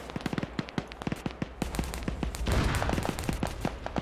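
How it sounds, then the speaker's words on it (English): Rapid crackling gunfire and rocket impacts in a military game battle between Swedish forces and Russian insurgents, dense repeated sharp bangs in quick succession building into a heavier rumbling barrage midway, fairly near and loud, with no talk. "So now you're hearing the rockets coming."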